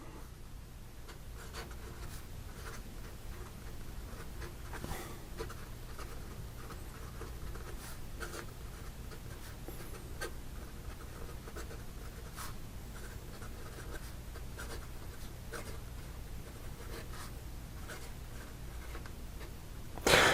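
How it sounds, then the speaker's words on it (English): An Edison LE Mina fountain pen with a steel nib scratches softly across paper in a continuous, quiet stretch of writing, with small strokes and pauses and no voices. "So here we go with the rest of the writing sample."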